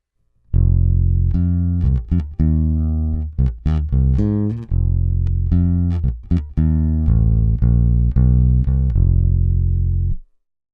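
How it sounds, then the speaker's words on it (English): A bass guitar plugged in direct with a dry, unprocessed tone plays a melodic line of sustained low notes and quick plucked runs, close and clean with no other instruments or voices. "We're going to hear just the straight direct sound of the bass here."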